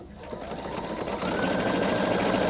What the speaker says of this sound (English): all I have to do is start sewing